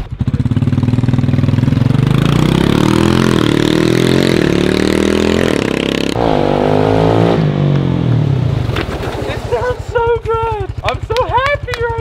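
A Honda motorcycle with a tuned exhaust roars loudly up close, revving and holding high, then dropping to a choppy idle with sharp blips of the throttle.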